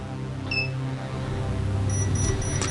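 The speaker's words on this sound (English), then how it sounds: "And yes, we do get that nice audible alarm and visual as well." An ALLSUN 3085A multimeter sounds its high-voltage audible alarm at 1000 volts, giving a short thin beep and then a run of high beeps at the end over a steady low hum.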